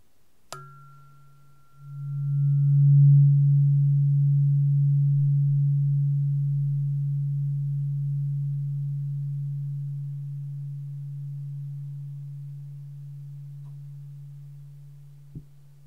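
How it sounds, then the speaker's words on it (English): A struck tuning fork rings near the ear as a single pure, steady tone after a sharp tap, swelling up close and then slowly fading over about fifteen seconds in a quiet, relaxing setting. "Next, a tuning fork. Just for each ear. Just for the sound."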